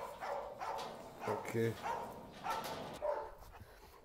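Dogs at an animal shelter give a short bark and yips amid people talking, the barks brief and moderately close under the conversation.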